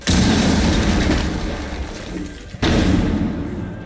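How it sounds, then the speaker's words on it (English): Wall breach in Rainbow Six Siege, a loud sustained booming roar that drops off briefly and then slams back in with a sharp thud, close and heavy. "Blow a hole in that wall."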